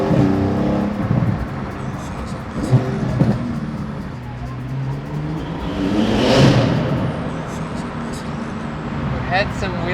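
A sports car accelerating hard under throttle, its engine note rising and swelling loud, then a whooshing pass before the revs climb again, with someone talking over much of it.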